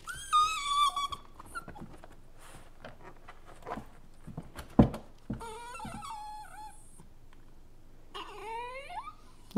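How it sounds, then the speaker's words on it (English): A stressed puppy whimpers and whines in a series of high, wavering cries with quiet gaps between them, close and fairly soft, with a brief sharp knock partway through. "Now that's a sad puppy."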